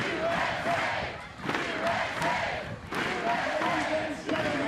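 A capacity crowd at a women's gold medal beach volleyball match cheers and shouts in waves, with the roar surging and dipping every second or so while a commentator talks over it.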